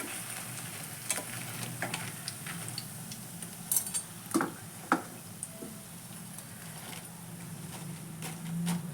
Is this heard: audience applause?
no